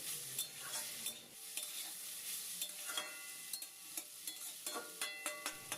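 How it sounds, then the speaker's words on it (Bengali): Beetroot fried with a little sugar in a pan gives a soft, quiet sizzle broken by frequent clicking spatula stirs and scrapes, close up and with no speech. "চিনিটা বিটের সাথে মিশিয়ে নিয়ে একটু ভাজা ভাজা করে নেবো"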